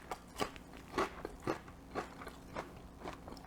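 Crisp bites and crunches into a Korean pajeon fried in a potato starch and club soda batter, about six sharp crackling chews in a steady rhythm, close and alone without talk.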